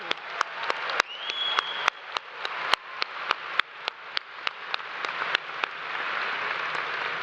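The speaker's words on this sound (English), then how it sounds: "So please give a round of applause to our Masters of Accountancy and Masters of Economics." An audience at a Farmer School of Business commencement ceremony gives a round of applause, with many crisp, distinct hand claps over a steady bed of clapping that gradually thins out.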